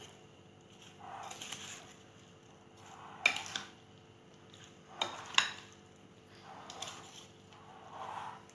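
A spoon mixes fruit chaat in a bowl, making quiet scrapes and rustles in separate bursts with a few sharp clinks against the dish.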